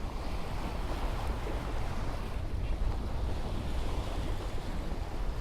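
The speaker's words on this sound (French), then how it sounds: "On profite d'un bon vent de travers." A steady crosswind and sea waves during sailing in the English Channel and the Iroise Sea, heard as constant rushing wind noise and wash across the whole stretch, with no voices.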